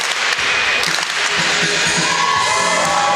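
A crowd at an ice hockey game cheers and applauds steadily, a dense continuous roar of many voices with no single shout standing out.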